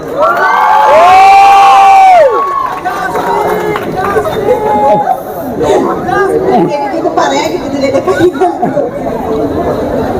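A crowd at a shop inauguration cheers loudly, with children shouting and lively chatter. Excited voices swell at first, then settle into a busy, continuous hubbub.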